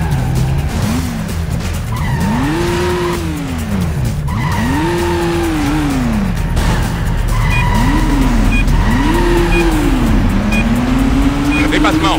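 Loud video-game car engine from Stuntman on PS2, with rising and falling revs and repeated tire squeals during handbrake turns and crashes, running continuously under a steady roar.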